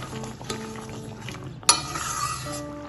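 Spoon stirring sugar into a curry in a pan over a light sizzle, with one sharp clink of metal partway through, close and without talk.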